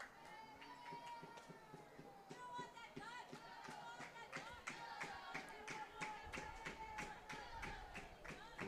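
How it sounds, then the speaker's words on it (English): Teammates in a Carroll high school softball dugout clap in quick, steady rhythm, with crowd noise and voices rising underneath, continuous throughout. "Looks like the Carroll dugout is getting fired up and trying to cheer on their teammates."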